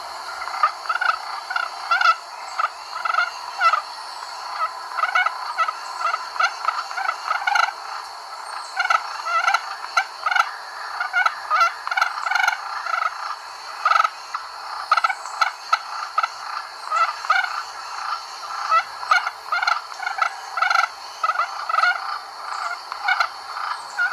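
A turkey call imitates wild turkey gobbling and aggressive fighting purrs, rough and rattling, loud and close, in quick irregular bursts with brief pauses, no talking.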